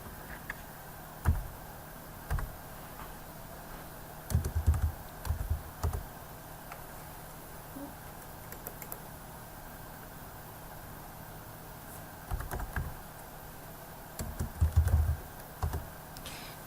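Bursts of quick keystrokes on a computer keyboard come in short clusters separated by pauses, faint against a quiet room hum, with no talking.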